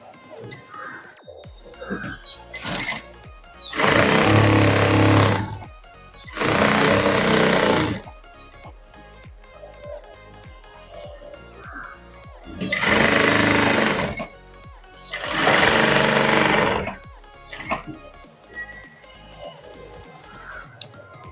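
A sewing machine stitches a kurti in four loud runs of rapid mechanical whirring of about two seconds each, with handling and clicking between them.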